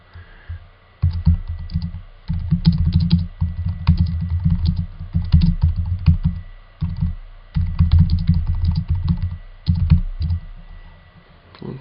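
Steady typing on a computer keyboard while writing a paper, dense bursts of clicking keys in runs with short pauses between, close and fairly loud, no talking.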